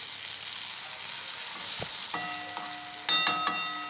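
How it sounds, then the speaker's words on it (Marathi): Shark fish pieces frying in oil on a wood-fired stove, a soft, steady sizzle with a few thin tonal squeaks and clinks toward the end, close and without talking. "आणि आतमध्ये हे मोरीचं काळीच सोडल्यानंतर तेलामध्ये गॅस बारीक करून भाजायचं आहे"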